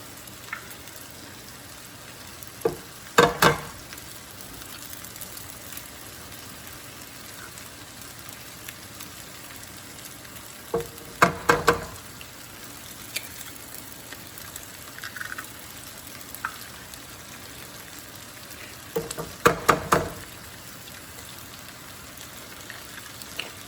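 Eggs fry sunny side up in a pan over medium-low heat with a faint, steady sizzle, and three bursts of louder crackling and clatter break in at intervals.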